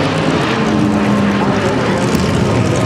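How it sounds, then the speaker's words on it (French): Nord Atlas military transport aircraft in flight at La Ferté-Alais 2012, a loud, continuous propeller drone with a rough broadband roar and steady low hum filling the whole stretch. "Cet avion, c'était le Nord Atlas."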